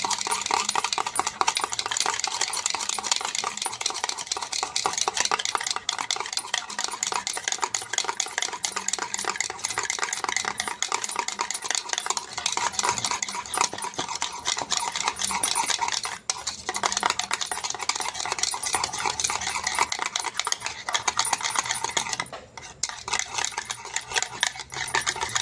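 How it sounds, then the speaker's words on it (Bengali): Yogurt is stirred into cooled milk in a metal pot while making mishti doi, a continuous rapid scraping and clinking of a spoon against the pot, close and steady with no talk. "দইটাকে ভালোভাবে এরকম করে মিশিয়ে নেব।"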